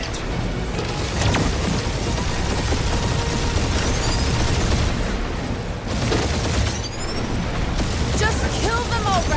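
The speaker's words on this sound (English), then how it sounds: "Keep up the barrage." A sustained gunfire barrage in the Guardians of the Galaxy game: dense, continuous bursts of shots and booming impacts roar for about nine seconds, with voices in the clip partly heard over the din.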